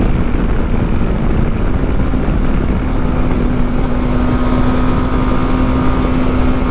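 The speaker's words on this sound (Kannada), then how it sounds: "ಏನು ಸ್ಮೂತಾಗಿದೆ ಗುರು ಇಂಜಿನ್, ಅಷ್ಟೊಂದು ವೈಬ್ರೇಷನು ಗೊತ್ತಾಗ್ತಾ ಇಲ್ಲ." A TVS RTX300 adventure motorcycle engine while riding, a steady, smooth droning hum with a constant low tone and wind rush throughout, loud and continuous with no talk.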